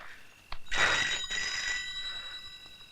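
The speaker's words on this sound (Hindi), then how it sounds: "आ गया तेरे बाप का फोन। जा उठा, देख मत, उठा।" A telephone bell rings loudly in a single sustained burst, bright and metallic, then its ringing tone lingers and fades against a quiet background.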